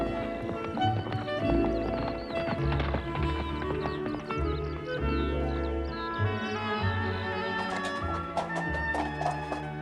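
Horse hooves clip-clop in a steady rhythm across the whole stretch, with occasional whinny-like calls and a bright, busy background of birds and music-like tones.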